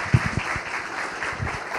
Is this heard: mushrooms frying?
no